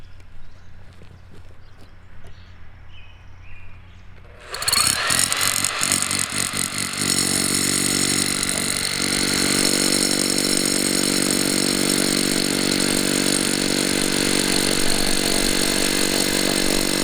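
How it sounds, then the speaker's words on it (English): A solar-powered hammer drill bores holes for piers off-grid, starting with a rapid rattling hammer burst and then settling into a loud, steady, continuous grinding whine with no talk. "Pretty much no other way to put these things in other than the hammer drill"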